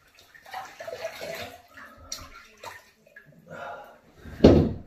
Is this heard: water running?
yes